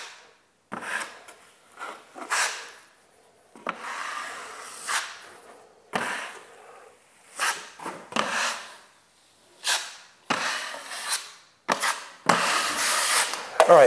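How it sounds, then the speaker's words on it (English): A 12-inch drywall knife smoothing joint compound over drywall seams: repeated scraping, rubbing strokes in bursts with short pauses between, close and fairly loud, no voices. "I'm gonna take my 12-inch knife and I'm just going to smooth that in."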